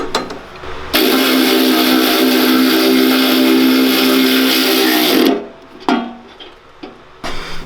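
Power tool running steadily for about four seconds while parts of a mini bike build are tightened, a loud continuous whir with a hard start and stop, followed by a few short bursts.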